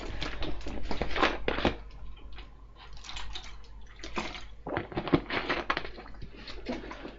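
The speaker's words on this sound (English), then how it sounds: "I need a drink of water." Water is poured into a glass and drunk close by, with uneven splashing and gulping bursts over a low steady hum.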